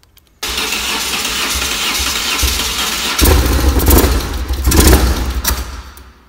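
A BMW R1100RS motorcycle engine cranks and fires into a loud, near, rough idle, surging twice before cutting out and stalling.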